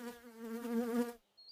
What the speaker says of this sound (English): This is a mosquito. It likes to buzz and bite.